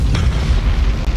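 Imperial warship blowing up in the space strategy game Battlefleet Gothic Armada 2, a single deep, rumbling boom that swells and rolls for about a second, loud and heavy in the low end.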